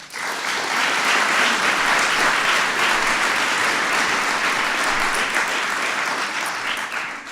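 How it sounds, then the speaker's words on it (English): An audience breaks into a sustained round of applause at a reception for the 2015 WNBA champion Minnesota Lynx; the dense, even clapping fills the whole stretch at a steady loud level, with no one speaking over it. "we want to give him a big round of applause."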